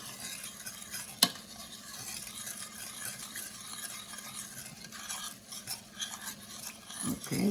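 Melting sugar in a pan for halva sizzling softly while a spoon stirs and scrapes steadily, with one brief sharp clink of utensil against the pan.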